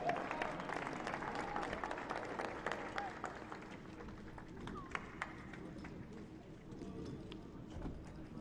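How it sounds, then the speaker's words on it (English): Applause for the Barca Residency Academy youth soccer team at a championship ceremony, heard as steady distant clapping from a crowd, fairly faint and continuous with scattered voices mixed in. "One more round of applause for Barca Residency Academy."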